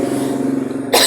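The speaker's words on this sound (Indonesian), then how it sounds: "Saya benar-benar lagi batuk sekarang gara-gara kemarin kebanyakan es." A single sharp cough breaks out at the very end of the short stretch, loud and close, after a low steady hum.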